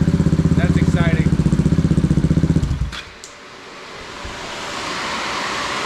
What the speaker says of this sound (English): Give it one more rev